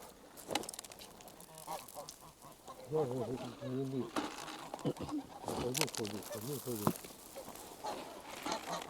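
Geese honking and calling in a rough chorus, several birds close by, with people talking intermittently underneath.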